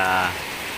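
Light, steady rain falling under a grey overcast sky over Chiang Mai, a soft continuous wash of drops, fairly close and even, with no other sounds standing out.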